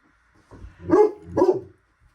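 Two loud, close barks from a dog indoors, spaced about half a second apart, each with a short throaty lead-in, then quiet.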